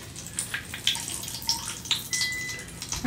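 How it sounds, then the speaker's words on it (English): Two tablespoons of grease drippings from chicken fried chicken poured out of a frying pan, giving a close, wet splashing trickle with small drips and clinks, continuing for a few seconds with no voices. "I'm going to dump all the 2 tablespoons of grease out of here, or drippings"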